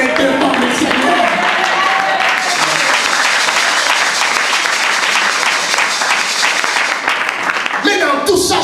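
Congregation at a church service in Lausanne breaking into sustained, dense applause with cheering voices mixed in, loud and continuous before fading near the end.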